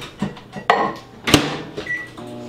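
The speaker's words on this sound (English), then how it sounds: "I'm going to put this in the microwave just for a second." A microwave oven used briefly to soften butter: a door clunk, sharp button beeps and clicks, then a low hum as it starts running.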